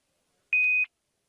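A single short electronic beep, a clean steady tone about a third of a second long, alone in silence.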